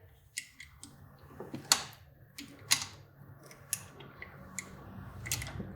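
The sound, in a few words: feeding Kawasaki Ninja 400 clutch cable through with pliers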